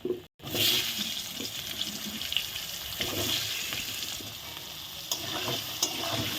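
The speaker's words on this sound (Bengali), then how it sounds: "আলুগুলো আমি ভেজে নিচ্ছি" Steady sizzling and crackling of frying in hot oil, with occasional stirring scrapes, close and continuous.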